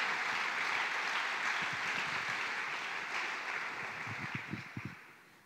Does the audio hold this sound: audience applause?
yes